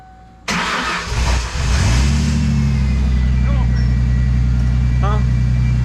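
A 1997 Ford Mustang engine cranks and catches, then settles into a loud, steady idle close by, with faint voices underneath.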